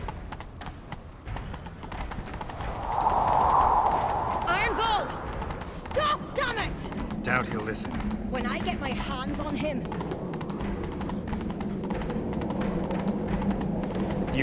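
Horses gallop in a chase in The Witcher 3, their hoof beats running as a continuous rumbling rhythm under loud spoken dialogue, with a brief whooshing swell near the start.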